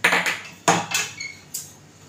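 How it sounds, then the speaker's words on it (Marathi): Coriander seeds tipped into a mixer jar while making a Marathi fish curry masala give a few sharp, close clinks and rattles, separated by short pauses. "मी आता ह्याच्यामध्ये मिक्सरच्या भांड्यामध्ये धणे घालते"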